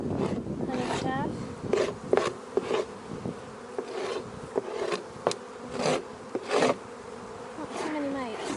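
Honey bees buzz around an opened overwintered hive during an inspection, with close, wavering drones passing near and away against a steady hum, mixed with scraping and rubbing of hive parts.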